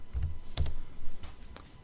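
Short burst of keystrokes on a computer keyboard typing a web address, a handful of crisp clicks in quick uneven rhythm, close and clear with no voices.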